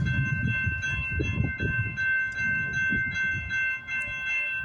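A CN freight train rolls past on the Dundas Subdivision at Hardy, Milepost 25, in the evening, giving a steady low rumble of wheels and cars with faint high tonal ringing over it, close and continuous throughout.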